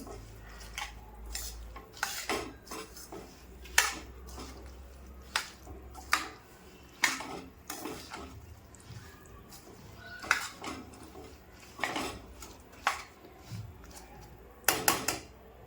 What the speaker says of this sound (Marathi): आता यातच चवीनुसार मीठ हे पण मिक्स करून घेते.